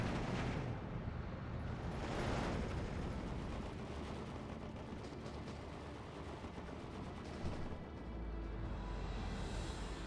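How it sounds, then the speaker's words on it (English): Bombs from a Ju-188 bomber exploding around a T-34-76 tank in the Steel Division 2 WWII strategy game, with faint, distant rumbling blasts and crackling under a continuous low roar of battle. "the T-34-76 walked straight into the bombs of that Ju-188"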